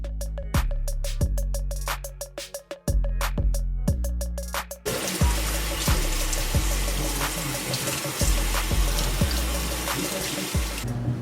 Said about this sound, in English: So we're just going to go ahead and shampoo and condition it and rinse out the color.